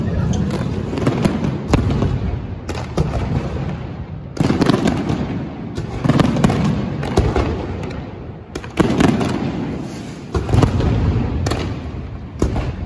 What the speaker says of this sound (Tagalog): Ito po yung ganap kagabi, merong napakagandang fireworks at iba pa.